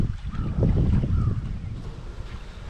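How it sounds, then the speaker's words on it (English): Wind gusts across a riverside campsite along the St. Lawrence channel at Kring Point State Park, a low rumbling buffet against the microphone that swells and then eases over a few seconds, with no talk. "The wind's not bad now, but you can hear it picking up."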